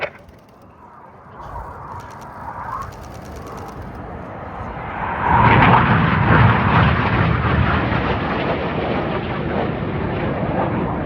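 Red Arrows aerobatic jets roar at the RAF Cosford air show. A distant rumble swells into a loud, broad jet roar about halfway through and stays heavy to the end.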